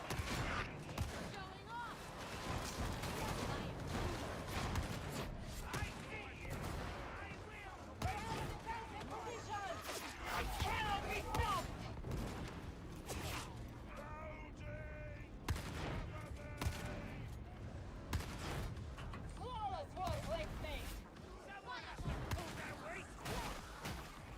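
Rapid volleys of video game gunfire, sniper shots mixed with dense bursts, crackle continuously at close range and high loudness, with a voice talking over the barrage.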